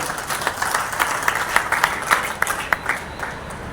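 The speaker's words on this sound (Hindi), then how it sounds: "एक बार आप तालियां बजाएं।" Audience applause at a BJP district president's welcome and honour ceremony in Jind, a moderately large crowd clapping with sharp individual claps standing out, fairly loud and close, fading slightly at the end.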